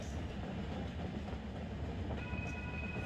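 A BNSF freight train rumbles past at a steady level in the Run 8 train simulator game, with a continuous low rolling roar and a faint high tone joining near the end, no talking.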